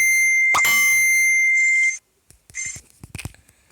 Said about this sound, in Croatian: Izvinite, stigla mi je poruka.